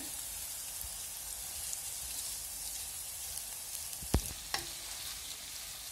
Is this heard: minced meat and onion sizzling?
yes